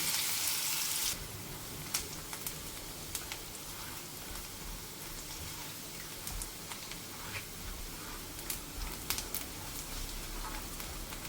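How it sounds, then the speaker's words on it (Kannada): Two onions frying in a pan for a mushroom gravy, a steady close sizzle with scattered small pops and crackles throughout, no voices. "ಈಗ ಇದಕ್ಕೆ 2 ಈರುಳ್ಳಿನ ಹಾಕಿ ಹುರಿತಾ ಇದ್ದೀನಿ"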